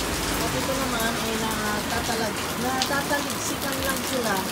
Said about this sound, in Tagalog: Kayaan natin mag-enjoy sa ulan yan.